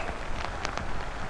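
Rain falls on a lake during a rainstorm, a dense, steady hiss of drops on the water with a few brief, sharper splashes standing out.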